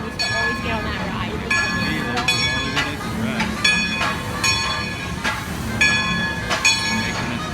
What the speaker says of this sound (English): we should be able in just a second to see the train pop out behind this building